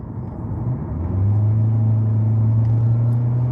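An 18-wheeler semi truck rolling down the road, its deep engine drone building and then holding steady as a loud, close, continuous rumble with no voices.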